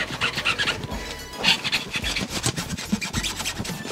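Small wooden wedge pushed and rubbed against a BMW E46 330 car tyre, a close, dry scraping and rasping in short repeated strokes, with no talk.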